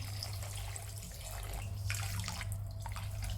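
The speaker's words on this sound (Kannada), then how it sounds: "1 ಕಿಲೋ ಸಕ್ಕರೆಗೆ ಇಷ್ಟು ನೀರು ಹಾಕೀನಿ." Water pours steadily onto a kilo of sugar in a pot while syrup is made for wheat-flour gulab jamun, a continuous close splashing and trickling with a low hum underneath.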